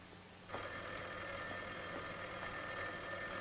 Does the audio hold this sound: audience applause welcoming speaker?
no